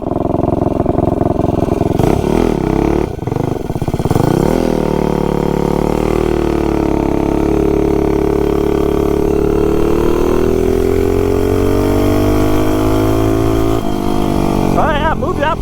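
A Tillotson T225 kart engine fitted with a Tillotson cylinder head revs hard and close, its pitch climbing and dipping through long sustained pulls, with brief throttle blips near the start and end.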